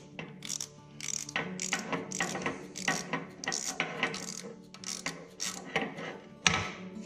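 A ratchet fitted with a deep well socket works five-eighths inch bolts up close, making quick bursts of sharp metallic clicking in an uneven rhythm, with one louder knock near the end.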